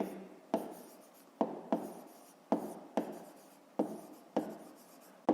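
Pen or pencil writing numbers on paper during a fifth-grade maths exercise, heard as six or seven repeated scratchy strokes at a steady pace, each starting with a sharp tap and trailing off, close and quiet with no talking.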